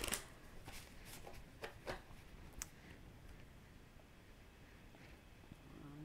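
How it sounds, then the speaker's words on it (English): Quiet riffling and soft slapping of cards being shuffled, a few crisp snaps early, then a faint steady rustle. "I'll shuffle them again while we're talking"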